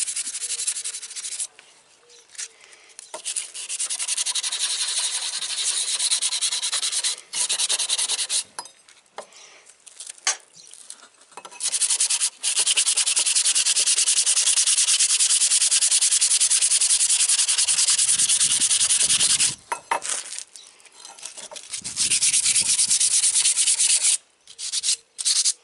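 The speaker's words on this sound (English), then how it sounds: "I'm just going to use just the sandpaper here." Wet sandpaper is worked by hand over a steel knife blade, giving loud, steady rasping strokes in long runs broken by brief pauses, with no talking.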